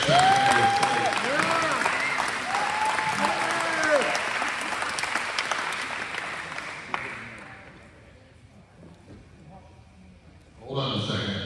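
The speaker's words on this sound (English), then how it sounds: "Another round of applause for Senator Hoskins and our next Secretary of State." Applause from a crowd at a county GOP wine social, a steady wash of clapping beneath a loud voice talking over it, then fading near the end before a short burst of noise.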